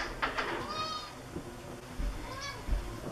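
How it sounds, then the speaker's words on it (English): A cat meows indoors, a few drawn-out plaintive cries spaced across the moment, fairly faint and slightly distant against quiet room noise. "he keeps coming upstairs and meowing and I keep having to let him in"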